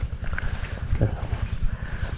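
A boat engine starts and settles into a rapid, even low chugging, close and moderately loud, with wind noise over it.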